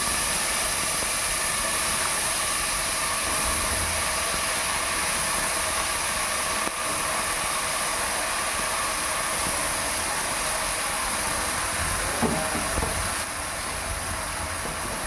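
Cut eggplant pieces cooking in a pan, giving a continuous loud, even hiss of frying that holds steady throughout with no voices.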